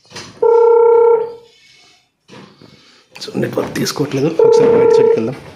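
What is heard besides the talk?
phone ringing tone when calling a 4G solar camera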